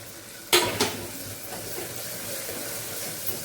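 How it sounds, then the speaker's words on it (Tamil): Ginger and garlic sautéing in a pan with onions for jackfruit seed paya, heard as a steady soft sizzle under two sharp clinks of a spoon against the pan near the start, close by with no speech. "வதங்கும் போது இஞ்சி பூண்டையும் போட்டுருவோம்"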